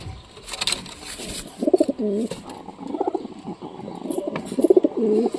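Satin pigeons kept in a loft coo in repeated rounded bursts, several calls close by with faint chirps and rustle between them, no talk over them.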